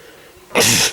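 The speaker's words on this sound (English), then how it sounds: "Oh, I'm gonna sneeze." A single loud, close human sneeze bursts out sharply after a moment of near quiet.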